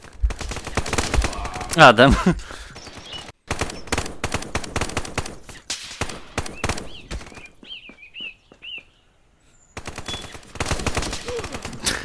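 Rapid bursts of gunfire ring out in the VR shooter Contractors, loud and repeated with short gaps, while a player briefly exclaims over the shots.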